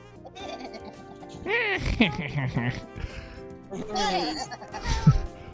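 A voice imitates a sheep's bleat, with wavering nasal calls rising in short bursts amid lively German chatter from a young streamer, fairly loud and close.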